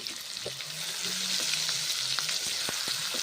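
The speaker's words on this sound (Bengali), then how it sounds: "ভেজে নিচ্ছি নেড়ে চেড়ে ভালো করে ভেজে নেব পেঁয়াজ আর মশলা" Onion and ground spice paste frying in hot mustard oil, a steady hiss with scattered crackles and a few stirring scrapes, close up, with no voices.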